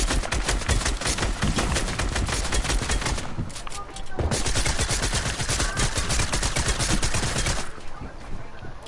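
A submachine gun in a video game fires rapid bursts, loud and close, with a short pause in the middle of the clip. Faint talk can be heard under the gunfire.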